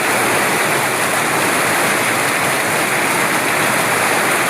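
Heavy rain pours down in the Andamans as a dense, unbroken hiss that stays loud and even throughout, with no voices.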